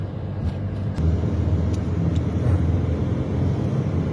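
A car drives along a road through Dubno toward Kharkiv, giving a steady close engine and tyre rumble with a small bump near the start and no talk.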